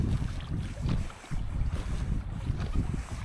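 Wind gusts over open water beside an island, a rough, buffeting rush with microphone noise and low rumbling surges, with no voices.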